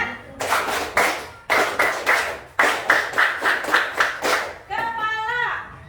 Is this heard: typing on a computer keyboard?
no